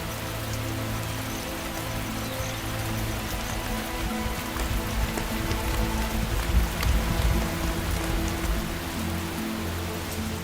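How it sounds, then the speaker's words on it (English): Heavy rain pours down steadily, a dense continuous hiss of drops hitting the ground, building slightly louder in the middle and holding constant throughout. "Some find the cold downpour irritating"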